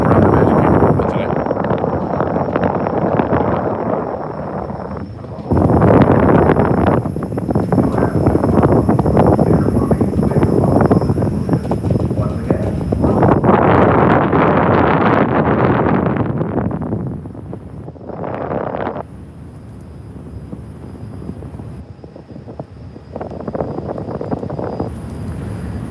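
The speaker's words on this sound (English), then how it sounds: "Well, it's windy, plus we're moving about" Wind buffets the microphone on a monorail at Magic Kingdom moving about 15 miles an hour, broadband rumbling gusts surging and easing over long stretches, loud and close.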